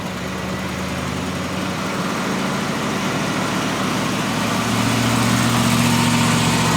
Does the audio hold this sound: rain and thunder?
no